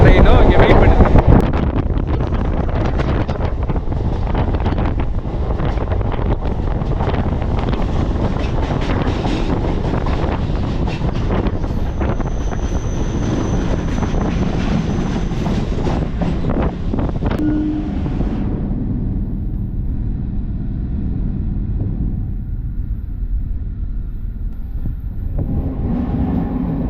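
Suburban train pulling away from Velachery station in Chennai, a steady broad rumble and rush of motion noise that holds loud and continuous for most of the stretch before easing off near the end.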